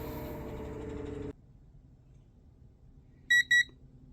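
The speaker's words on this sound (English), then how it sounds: "Tester is purging." A gas leak tester purging gives two short, high electronic beeps in quick succession near the end, following a stretch of broadband noise that cuts off into quiet room hum.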